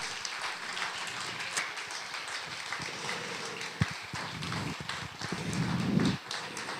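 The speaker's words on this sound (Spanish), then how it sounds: "renovamos el aplauso para Ernesto" An audience applauds a journalist at a public book talk in Santa Fe, a sustained wash of clapping with scattered sharper hand claps and a swell near the end.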